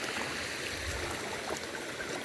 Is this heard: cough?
no